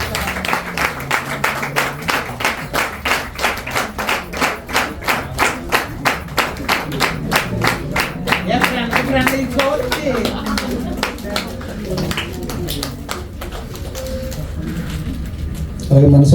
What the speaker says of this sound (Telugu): చప్పట్లు కొడతామండి